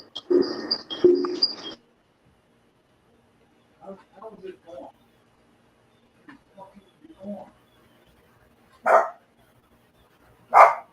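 A dog barks a few times, two close loud barks at the start and sharper short barks later, with quiet speech and small sounds between them.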